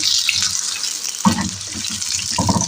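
Potato chunks, about a kilogram, frying in oil in a pan, a close, crackling, watery sizzle with bursts of bubbling that swell and settle over a couple of seconds, no talking.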